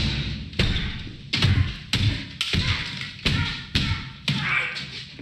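Heavy doors slamming shut in a television drama scene, a series of about seven loud, sharp thuds spaced roughly every half second to second, each with a short echoing decay.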